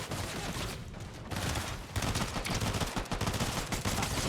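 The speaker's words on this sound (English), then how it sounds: "when you're firing your gun, you are giving off your radar" Rapid bursts of automatic gunfire from the Fortnite video game, loud and dense with fusillade-like rattling that drops briefly before resuming heavier to the end.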